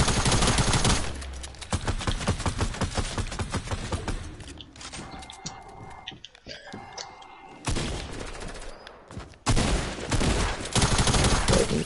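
Rapid assault rifle fire in a Fortnite match, dense loud bursts of repeated shots stopping and starting, with quieter gaps of footsteps and game noise between volleys.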